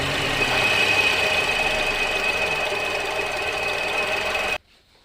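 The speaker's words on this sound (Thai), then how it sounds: "ชุดมูเล่คอมมีเสียงดัง" Noisy air-conditioning compressor pulley on a 2007 Toyota Vios engine, a steady mechanical whir with a thin high squeal running close and loud for over four seconds, then cutting off abruptly into near silence.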